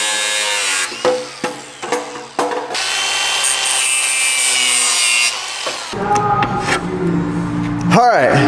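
A reciprocating saw cuts through a trim piece on an OBS Ford F350 pickup in loud, steady buzzing runs, broken by brief pauses and shifts in pitch as the blade works, with some scraping near the end.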